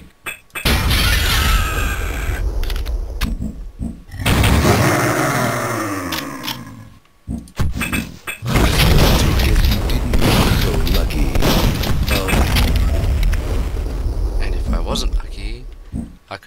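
Loud grenade blasts and crashing debris from the Duke Nukem 64 shooter burst out in several heavy, dense bursts separated by brief gaps, with a voice talking over the game action.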